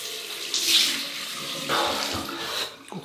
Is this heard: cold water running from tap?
yes